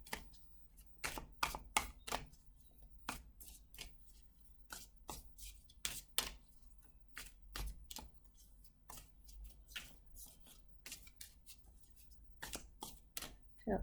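Tarot cards pulled one by one from a deck during a reading, a run of sharp, close, quiet card snaps and flicks in an uneven rhythm.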